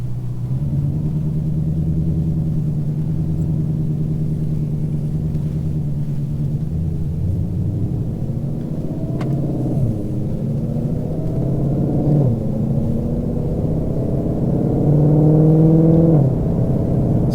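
A powerful 2020 Shelby GT500 engine rumbles steadily at low pitch, rising and falling as it revs up through gears.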